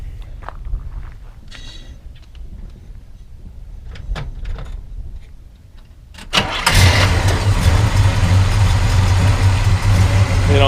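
A 1970 Chevrolet Chevelle SS454 with the LS5 big-block and factory 4-speed cranks with a quiet whirring before catching at about six seconds, then settles into a loud, steady, rumbling idle close by, with faint footsteps and clatter beforehand.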